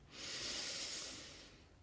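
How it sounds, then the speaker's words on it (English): A slow, soft inhale through the nose rises and fades in one long airy breath, close and quiet, lasting under two seconds with no talking. "Just breathing in"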